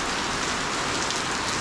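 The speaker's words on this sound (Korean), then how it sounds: "비 와서 다행이네" Steady rain falling on a surface, a dense, even patter that stays loud and close, with no other sounds breaking through.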